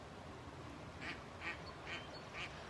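Ducks quack outdoors in four evenly spaced calls, faint and distant over a steady low background rumble, with no talk.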